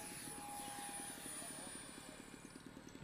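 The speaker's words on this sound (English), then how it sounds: "There goes the jet." A radio-controlled model jet takes off at an R/C airshow with a steady, droning engine whine and a fine rhythmic pulse, while people talk in the background.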